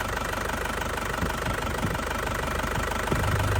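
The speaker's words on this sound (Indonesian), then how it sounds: "Nah ini masih stabil banget ya, mesinnya masih stabil banget" A warmed-up 2004 Isuzu Panther LS Turbo diesel idles close by with a steady, even knocking clatter and a constant low rumble, no voices.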